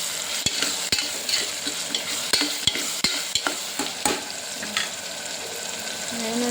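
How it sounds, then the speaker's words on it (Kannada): Food fries in a pan after salt is added, with a steady close sizzle under repeated sharp clicks of a stirring utensil against the pan. "ಸ್ವಲ್ಪ ಫ್ರೈ ಮಾಡೋಣ."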